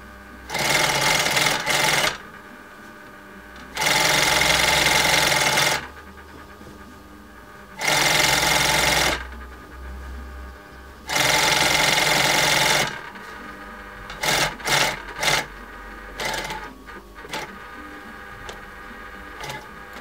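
A sewing machine hems a pinch pleat lined curtain in four loud, steady runs of a few seconds each, separated by pauses, followed by a handful of short stuttering bursts.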